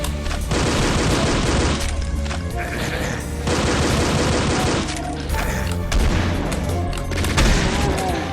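Pistol fire in Doom 2 BREAK//POINT (UDMF episode) forms a loud, dense run of rapid shots and booming impacts with almost no gaps, heard up close over several seconds.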